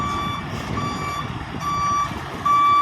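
A truck on a construction site, pouring a concrete floor slab, sounds its reversing alarm: a steady series of loud, evenly spaced high beeps over low engine rumble, with no talk.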